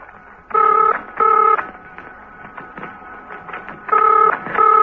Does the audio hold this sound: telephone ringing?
yes